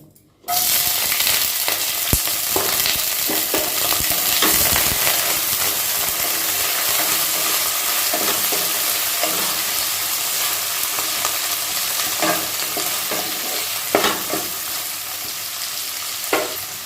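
Loud, continuous sizzling of vegetables stir-frying in hot oil for chicken chow mein, with occasional scraping stirs of a spatula against the wok, close up.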